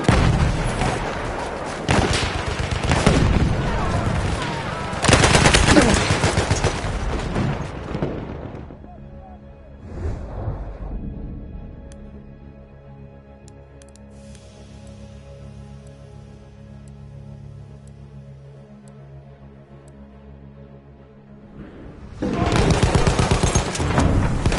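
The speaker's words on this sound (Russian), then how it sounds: "Вражеский пулемет!" Enemy machine gun in a war video game rattles out in loud dense bursts, then drops away to a low rumbling lull before heavy gunfire roars back at the end.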